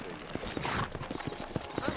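Horse hooves clip-clopping at a steady trot in the Western game Red Dead Redemption, a string of soft, evenly spaced hoof strikes running under a voice.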